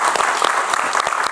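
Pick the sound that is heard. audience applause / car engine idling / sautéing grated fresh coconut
audience applause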